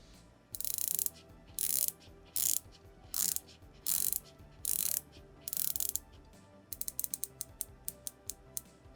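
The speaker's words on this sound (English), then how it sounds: "let's listen to the bezel action, because this is a titanium watch" The titanium bezel of a Timex Deepwater Reef dive watch is turned, producing bursts of crisp ratcheting clicks up close, first in several quick runs and then as a string of single separate clicks, with no talking.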